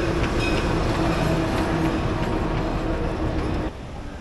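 A PeruRail train on the line toward Machu Picchu rolls past close by, with a steady loud rumble and rail clatter that holds throughout and eases slightly near the end.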